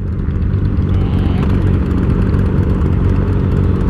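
Helicopter lifting off nearby, a loud steady low rotor and engine roar with rhythmic chopping, continuous and close with no talking.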